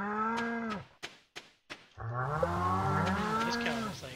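Cattle mooing in a farming video game, a long drawn-out low moo that breaks off, then a few short clicks and a second, fuller moo with overlapping tones, loud and close with no talk.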